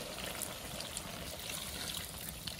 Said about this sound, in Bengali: তাই কম করে জল দিলাম